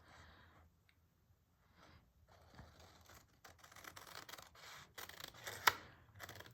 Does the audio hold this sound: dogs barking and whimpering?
no